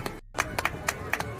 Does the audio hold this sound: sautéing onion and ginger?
no